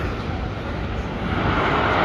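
Superman coaster at Magic Mountain launching on upgraded LSM engines, a loud continuous rushing roar that swells steadily as the train hauls past, with no talk over it.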